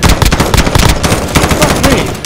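Rapid automatic gunfire from the video game Call of Duty Warzone, dense and loud, with bursts of shots running continuously throughout.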